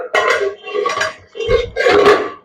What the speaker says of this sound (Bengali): এই দেখুন বন্ধুরা ঢাকাটা আমি একটু খুলে দিলাম